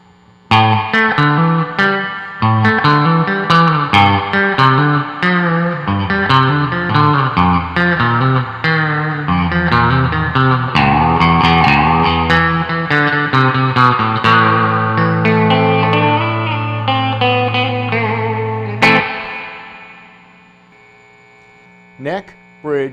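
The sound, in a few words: electric guitar, Mosrite style pickup, neck and bridge, half output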